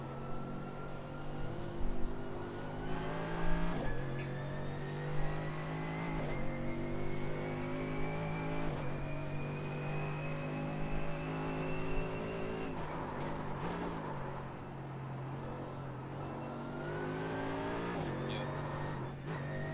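Race cars at the start of the 6 Hours of The Glen, a steady droning engine note with rising and falling pitch under radio chatter and talk.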